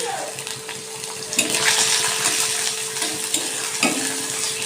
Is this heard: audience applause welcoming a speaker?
no